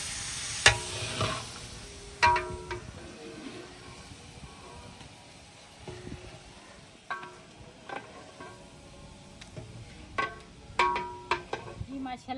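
Onions browning in a frying pot in a village kitchen, a soft low sizzle broken by sharp scraping and clinking from stirring at irregular intervals, close by and moderate in level.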